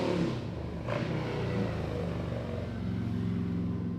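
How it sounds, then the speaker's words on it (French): A small but very loud motorcycle in a ski-village setting near Lake Louise in the Rockies rumbles steadily nearby, its engine drone continuous through the moment. "Comment ils font pour faire des motos aussi bruyantes?"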